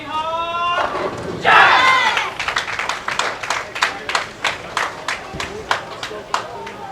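A crowd at a junior bowling championship shouts and cheers loudly for a moment. Scattered, rhythmic claps and calls follow, spaced across several seconds at moderate distance.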